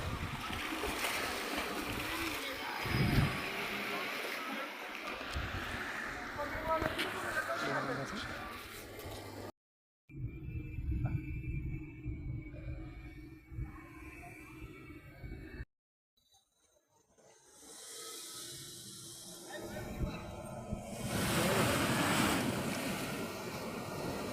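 Sea waves surge and wash where the Gomti river meets the sea near Dwarka, a steady roar mixed with gusty wind buffeting the microphone, broken by two brief cut-outs, with voices heard over the surf.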